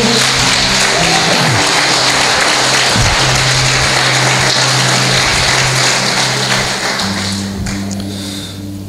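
A church congregation applauds during an evening service, producing a steady, loud, rain-like wash of clapping over a low sustained hum. It continues throughout and tapers slightly toward the end.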